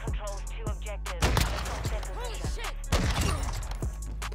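Sniper rifle shots in the Modern Warfare 2 video game sound as several sharp, separate cracks spaced a second or so apart, while someone talks throughout.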